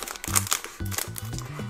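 Scissors cut open plastic packaging on a Poopsie Sparkly Critters toy, making close crinkling and rustling plastic sounds in quick irregular bursts while a voice talks over them.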